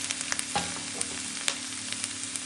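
Ground cumin, coriander, salt, Kashmiri chili powder and turmeric sizzle steadily in a frying pan for an aloo paneer posto dish, with a few light clicks and scrapes as the spices are stirred and no voices.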